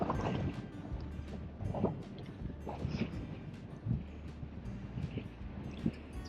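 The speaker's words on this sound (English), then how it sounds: "It's very windy" Strong wind on a coastal cliff staircase at Corny Point buffets the microphone with a constant low roar and gusty rumbles, overlaid by faint scattered knocks and rustles.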